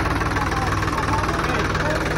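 A Swaraj 855 tractor engine runs at a steady, close, loud chug with an even low-pitched rhythm, with people talking over it.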